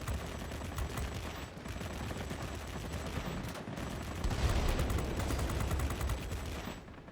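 Aircraft machine guns firing in the World of Warplanes video game on a Tier X fighter, a dense continuous rattle of rapid shots over engine drone, steady and loud throughout with brief dips.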